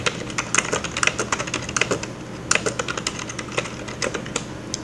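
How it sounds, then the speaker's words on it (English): A password is typed on a computer keyboard, a close run of brisk, uneven key clicks that continues without pause and without any voice. "I'm just gonna erase this here and I'm gonna type it again just to make sure that I can type it every"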